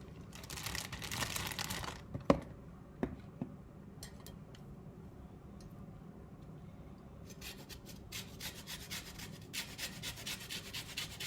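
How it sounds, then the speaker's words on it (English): Lemon zest is grated in quick rasping strokes, first in a short burst and then in a steady rhythmic run, with a couple of sharp taps between, close and moderately loud. "I am just going to add some lemon zest and some Parmesan cheese"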